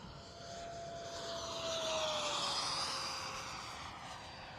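A T-33 jet at full throttle roars steadily and loudly throughout, a broad engine rush with a high whine that swells slightly in the middle, with no talk over it.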